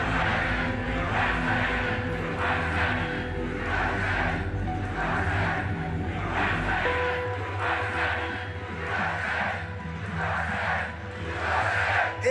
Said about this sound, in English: This is a big crowd.